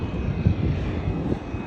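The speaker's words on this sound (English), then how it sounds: "now let's take a look at the next plane, an Atlas Air" An Atlas Air Boeing 747 at O'Hare airport makes a loud, continuous jet engine roar with rumbling low swells, heard up close and without voices.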